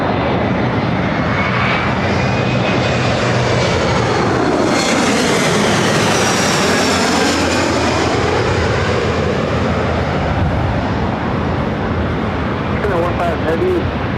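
Japan Airlines Boeing 777-300ER bound for Tokyo Haneda, its jet engines roaring loud and steady through a takeoff roll, with a sweeping pitch shift as the aircraft passes and radio chatter underneath.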